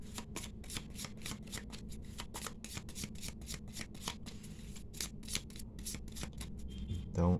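Tarot cards are shuffled by hand in a steady run of crisp, rapid riffles and slaps, close and fairly quiet, with a brief low thump at the end.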